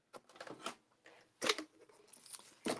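Scissors snip through a cardmaking paper panel in a few distinct, close cuts separated by short pauses, crisp and alone.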